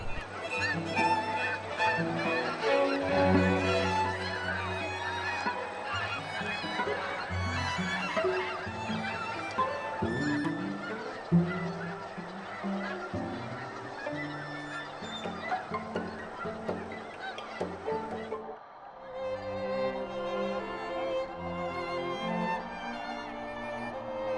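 A large flock of geese honks in flight over Sacramento Valley wetlands, a dense, continuous chorus of overlapping calls that stays loud and steady throughout.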